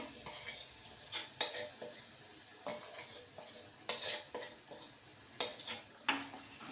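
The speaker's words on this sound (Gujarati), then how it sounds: "ધીમા ગેસે આપણે પાંચ સાત મિનિટ આપણે એને હલાવશું" Masala for Kathiyawadi dahi tikhari is stirred slowly in a pan over low gas, giving faint soft scrapes and occasional spoon knocks against a quiet low sizzle, with no voices.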